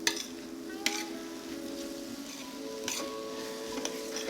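Garlic shrimp sizzle steadily in a pan, with a few sharp utensil scrapes and taps as they are stirred, moderately loud and continuous without talk.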